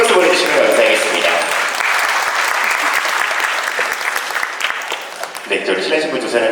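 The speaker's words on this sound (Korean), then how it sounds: "여러분 큰 박수 보내주시면 감사하겠습니다" A wedding ceremony audience applauds warmly and continuously for several seconds in a wedding hall, the clapping dense and close before tapering slightly near the end.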